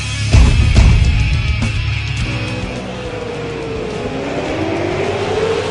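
V8 Supercar race cars in an online racing game at Suzuka roar past with a loud burst of engine noise early on, then settle into a steady engine drone with a rising whine underneath, and no talk.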